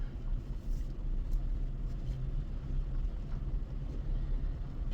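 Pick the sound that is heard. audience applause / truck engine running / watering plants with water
truck engine running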